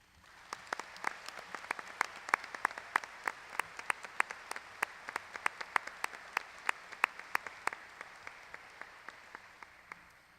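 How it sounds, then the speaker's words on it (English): A sparse round of applause at the 2018 IUP Athletic Hall of Fame banquet honours the inductees, individual claps standing out in a steady, fairly quiet rhythm that tapers near the end. "I would ask for one final round of applause for the inductees"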